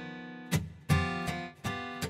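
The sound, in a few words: MIDI guitar pattern from Ample Sound strummer plugin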